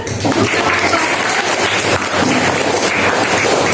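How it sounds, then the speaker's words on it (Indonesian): Applause from a classroom audience, a loud, dense wash of clapping that holds steady throughout without pause, slightly rough and noisy in texture. "Tepuk tangan lagi dong."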